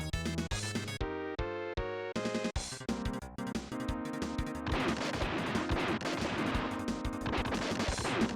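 Loud, dense audio from the 1994 game Pocky & Rocky, Phalanx, Asterix or Super Castle with bursts of tinny blasts and rapid gunfire-like cracks layered over music, turning into a continuous noisy barrage of explosions.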